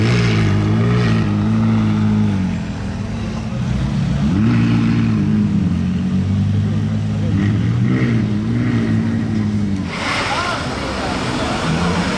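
Cars pass in Monaco traffic with deep, rising and falling engine drones and revs that overlap close by, and a brighter whoosh of a passing car near the end.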